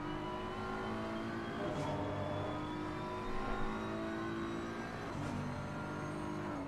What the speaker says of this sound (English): I wanted to get on with the number 87 Ford, just to let them hear the noise of the NASCAR engine